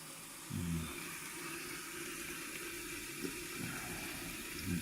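Coolant pumps through a computer water cooling loop while air bubbles are worked out, a faint, steady watery gurgle and hiss with a brief stronger surge near the start.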